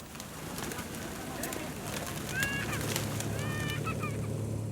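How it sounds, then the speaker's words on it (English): White pigeons at the Blue Mosque in Mazar-e-Sharif, Afghanistan, with soft cooing and a few brief bird calls over an outdoor background hum and distant voices. "And the white pigeons of Mazar are part of it."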